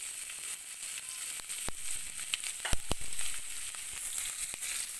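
Onions fry in a pan for Odia potala dalma, giving a steady, fairly faint sizzle with a few brief crackles and utensil taps.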